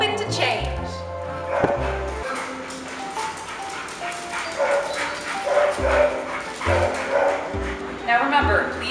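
Dogs barking and yipping in a pet care lobby, several sharp barks and whimpers scattered through the stretch, mixed with background noise and bustle.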